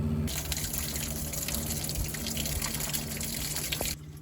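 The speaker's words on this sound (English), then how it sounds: "now that's working good to pump the water out" Water gushes steadily from a faucet as a pump drains a boat's fresh water tank, with a low pump hum underneath, then cuts off abruptly near the end.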